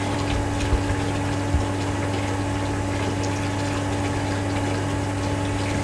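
Water pumped through a venturi meter lab rig into a measuring tank, a steady mechanical pump hum with constant rushing flow, unbroken and even throughout, with a couple of small knocks near the start.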